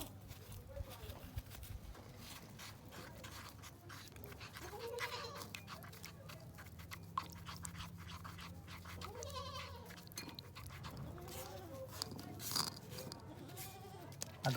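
Goats on a farm bleat in short wavering calls scattered across the scene, fairly faint and mixed with nearby talk and background noise.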